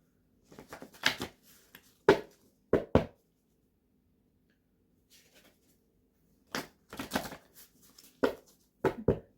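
Tarot card deck being shuffled by hand in short bursts of crisp riffling and tapping, near and quiet, with pauses of silence between the bursts.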